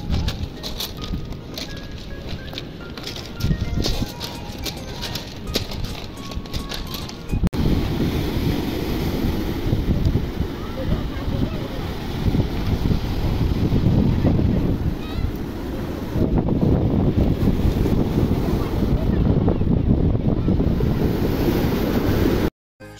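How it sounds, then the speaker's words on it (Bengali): Sea waves wash over rocks along a park shoreline in Mumbai and pull back, a loud, continuous rushing surge with hissing wind buffeting the microphone, heard close and without talk. "সমুদ্রের ঢেউ এসে পাথরে উপচে পড়ছে, আর সেই ঢেউ ফিরে যাওয়ার সময় পাথরে আর জলে মিশে খড়খড় বা কলকল মতো একটা বেশ সুন্দর শব্দ তৈরি করছে।"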